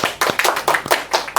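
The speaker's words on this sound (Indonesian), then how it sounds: "Tepuk tangan" Brief clapping in a university classroom teaching session, about seven sharp, evenly spaced handclaps in a quick steady rhythm, close and clear.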